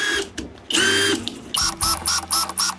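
Kress KUA71 cordless drill-driver spinning up in short bursts, motor whine rising and falling across speed changes, close and loud with no talk.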